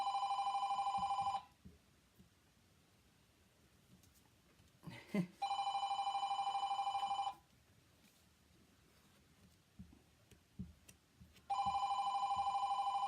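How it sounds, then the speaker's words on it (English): A home telephone bell rings in three separate bursts with quiet pauses between, loud and close, with no voices. "there is my home telephone there ringing for us"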